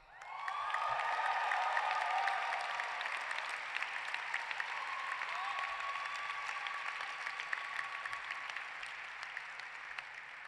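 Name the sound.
audience applause for graduating scholar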